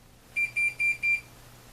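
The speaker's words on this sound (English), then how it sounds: "set your timer and wait for deliciousness" A kitchen oven timer beeps four times in quick, even succession, short bright electronic tones at moderate volume over a quiet room.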